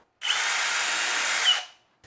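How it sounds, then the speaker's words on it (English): A power drill bores through a wooden piece with a dowel clamped in a corner, one steady loud burst of about a second and a half that spins up and winds down cleanly, with no talk over it. "And then drill all the way through."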